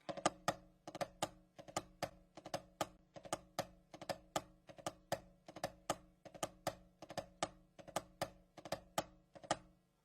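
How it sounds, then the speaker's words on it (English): Crisp snare drum strokes playing the single drag rudiment in a steady repeating pattern, each main hit preceded by a quick grace-note drag, played alone and close. "And it sounds like this, a single drag."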